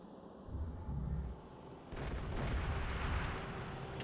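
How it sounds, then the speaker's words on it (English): Gunfire in the game Shogo: Mobile Armor Division comes as a dense, muffled barrage of rapid bursts and booms, fairly quiet and continuous, growing thicker and louder halfway through. "Who's shooting at me?"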